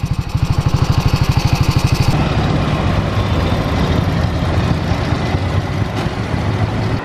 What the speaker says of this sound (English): It was an awesome experience riding this beautiful vintage motorcycle.